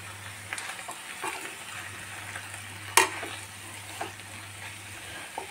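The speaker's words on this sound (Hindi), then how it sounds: "और मेथी को भी थोड़ा देर ढक के फ्राई करूंगी। मेथी भी फ्राई हो गई है अच्छे से।" Potatoes and fenugreek leaves frying in a pan for aloo methi sabzi, a faint steady sizzle with occasional soft stirring scrapes and one sharp clack partway through.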